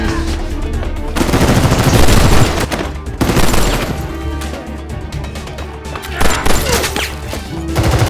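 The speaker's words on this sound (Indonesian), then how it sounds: "Baku tembak yang sengit di antara mereka" Intense gunfire from a film shootout: dense, loud bursts of automatic fire and overlapping shots rattling almost continuously, with crashes and impacts mixed in, close and overwhelming.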